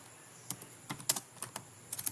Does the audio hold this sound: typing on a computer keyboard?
yes